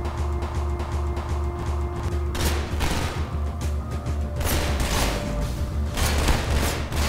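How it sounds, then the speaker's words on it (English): Gunfire in Half-Life 2 rings out as a dense, continuous exchange of shots and bursts. Loud bangs overlap through the whole stretch, with heavier blasts near the middle and toward the end. "Where are you guys even shooting from?"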